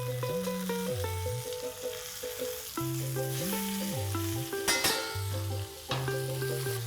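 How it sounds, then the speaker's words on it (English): A chicken sears in a pan over high flame, a steady sizzle and crackle running underneath a louder stepped melodic music track throughout. "Increase the flame and allow it to pan sear on high flame for 2 minutes"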